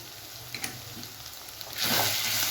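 Ground turmeric, Kashmiri chili powder, cumin and coriander powders sizzle in a hot pan for a bhetki fish-bone curry, a steady close frying hiss with a few faint taps that swells sharply louder near the end.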